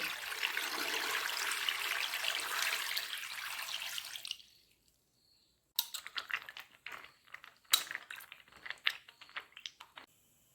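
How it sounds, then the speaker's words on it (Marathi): Water rushes and splashes for several seconds, then stops; scattered knocks and drips follow as roots are handled in water. "आता तिसऱ्या वेळासुद्धा भरपूर पाण्याने हळकुंड धुवून घेत आहे"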